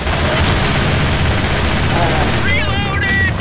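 Rapid, dense gunfire from the co-op shooter game Left 4 Dead 2 crackles continuously and loudly, with several players' voices faintly mixed in near the end.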